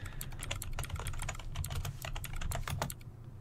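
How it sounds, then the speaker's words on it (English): A computer keyboard clatters in a zombie horror video game, with a quick, steady run of close keystrokes tapping for a few seconds. "Can I type in?"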